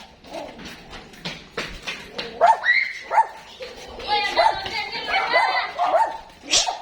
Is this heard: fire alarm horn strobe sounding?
no